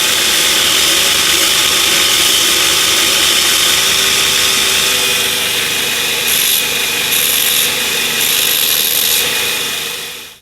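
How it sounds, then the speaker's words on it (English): An angle grinder cleans the burr off the cut end of a threaded rod, a loud, steady, harsh grinding roar with a high metallic whine that holds for about ten seconds before cutting off. "The first way is just using the grinder."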